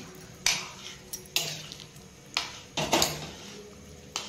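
A spoon stirs spice mix into a puffed rice curry in a pan, giving several separate scraping, rustling strokes with a light sizzle underneath, close and moderately loud with no talking.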